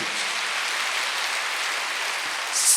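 Church congregation clapping during a Wednesday worship service, a steady dense wash of many hands held at an even level for a few seconds, with no voices over it.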